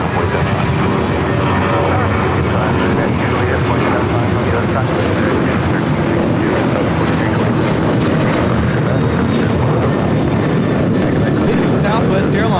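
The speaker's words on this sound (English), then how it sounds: "This is Southwest Airlines 1615 taking off to Dallas Love Field on the 737-800" A Southwest Airlines Boeing 737-800 takes off, its jet engines a loud, broad, steady roar that holds for the whole stretch, close and continuous, with faint talk in the background.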